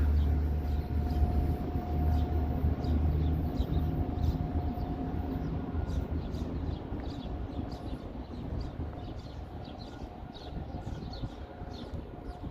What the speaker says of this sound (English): That's the train you take between Union Station and the airport.